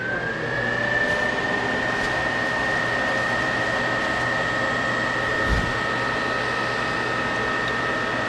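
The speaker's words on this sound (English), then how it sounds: "go turn the fans on" Fans run for a suction test, a loud steady whir with a constant tonal hum that holds for the whole stretch, close and without talk.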